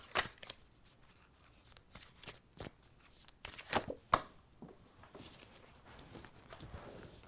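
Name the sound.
shuffling and drawing self-compassion cards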